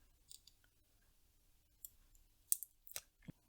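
Soft crinkly clicks and a brief tearing rustle as the clear carrier layer is peeled off a sticker on a CXD D12 Mini RC truck, quiet and close with short scattered bursts.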